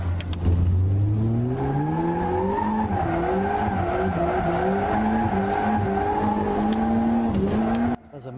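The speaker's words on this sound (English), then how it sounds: "The engine is a supercharged 4A GZE from an AE 10111 with a" A drift car powered by a supercharged 4A-GZE engine with a Skyline intercooler revs hard and holds a long, rising engine note while the tires squeal through a slide, loud and close, cutting off abruptly near the end.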